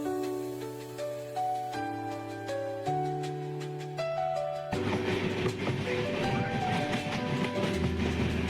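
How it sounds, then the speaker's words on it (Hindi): The Coromandel Express runs from Rajahmundry toward the Godavari river bridge, its interior clatter and steady rolling rumble joined by shifting tonal hums that step in pitch before a louder, denser rush of wheel and track noise takes over. "हमारी ट्रेन राजमुंद्री रेलवे स्टेशन से रवाना हो चुकी है और आगे है गोदावरी नदी"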